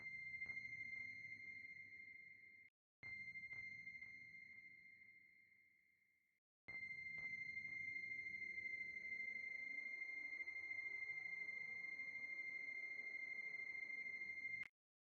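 Sustained synth pads building tension in an afro house track made in FL Studio, with steady tonal layers, a bright held high tone and shifting sweeping partials, broken by two brief dropouts, loud and alone.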